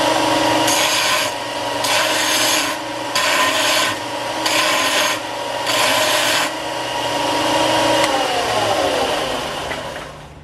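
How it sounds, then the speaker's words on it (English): Intercooler pipes being cut with a saw, a harsh rasping stroke repeated in steady bursts close by, roughly six passes, then slowing to a softer grind at the end with no talk. "I'm gonna get these pipes cut"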